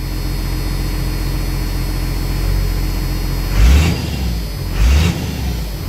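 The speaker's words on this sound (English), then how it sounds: "You can hear that dual clutch rattle around, which is normal." A 1986 Ford F350 with a diesel engine swap idles steadily up close, its new dual-mass clutch giving a rattle, with two brief louder surges breaking the continuous low rumble.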